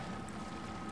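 Water pouring steadily through a flooded underwater facility in the game SOMA, a faint, continuous rushing wash with no breaks.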